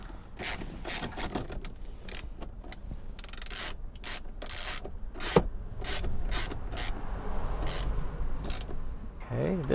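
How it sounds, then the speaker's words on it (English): Screws go in by hand on a Tesla screen swivel kit with a ratcheting driver, heard as close, loud bursts of rapid ratchet clicking separated by short pauses and rubbing. "So hand tighten the screws in first."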